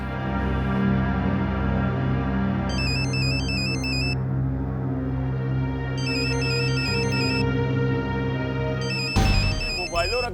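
A mobile phone ringtone chimes in repeated bright bursts over a steady musical backing, several short tonal phrases spaced a few seconds apart, before a voice cuts in at the end.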